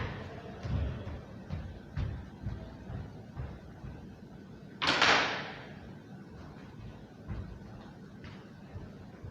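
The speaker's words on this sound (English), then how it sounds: "I'm going to run off camera to shut a door real quick" A room door is shut once, a single sharp thump with a short rushing burst, set against quiet background thuds from basketball play nearby.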